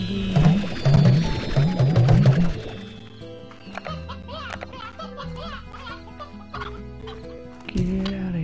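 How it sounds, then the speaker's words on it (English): Chickens cluck in the Slime Rancher video game: a loud burst of rapid clucking and squawks for about three seconds, then softer game tones and music, with one more brief cluck near the end. "I know a lot of chickens."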